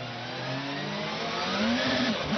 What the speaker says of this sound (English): Esteban Guerrieri very late in actually picking the revs up and then released far too much wheel spin